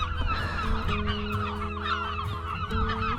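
Gulls calling noisily on Scotland's west coast around the Sound of Jura, a dense overlapping chorus of harsh squawks and honking cries, loud and near, over steady outdoor background noise.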